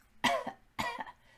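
Two separate coughs from a woman with a lingering illness, close and fairly loud, with a short pause between them and nothing else in the background.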